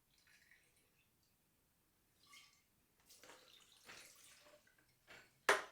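Gin splashes faintly into a mixing vessel for a martini, a soft trickle over a few seconds in a quiet room, ending with a sharp clink.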